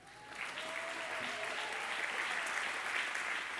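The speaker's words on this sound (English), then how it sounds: "I will pause for your applause again." Graduation crowd in a high school gym applauding at a 2020 commencement ceremony, a dense, steady wash of clapping heard from a distance, slightly muffled and sustained throughout.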